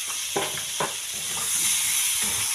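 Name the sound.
frying pointed gourd and potato with salt and turmeric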